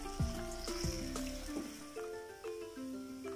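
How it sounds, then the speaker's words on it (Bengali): Chopped onions frying in hot oil over raised heat until golden brown for a dhaba-style paneer masala, a steady sizzle with soft crackles and occasional clinks, clear and close with no talking. "এখন চুলার আঁচটাকে বাড়িয়ে দিব এবং পেঁয়াজগুলোকে বেরেস্তার মতো করে ভেজে নিব"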